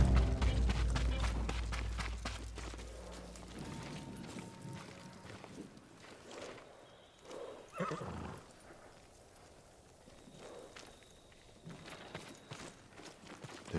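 Samurai horses in the Ghost of Tsushima stables give loud, close neighs and whinnies, then settle into snorts and hoof clops with quieter rustling and a few mechanical clicks in the background.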